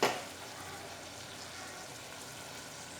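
Tomatoes sautéing in a pan for a Tamil Nadu chickpea kuzhambu, a steady soft sizzle after a brief louder stir at the start, fairly quiet and continuous with no talking.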